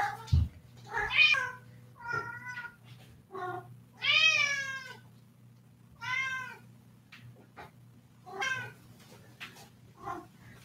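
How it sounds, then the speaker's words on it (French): A cat meows repeatedly in the background, several drawn-out, clearly pitched cries spaced a second or two apart, with a steady low electrical hum underneath. "vous devriez avoir le chat en bruit de fond qui a décidé de pile se mettre à miauler au moment où ça démarre"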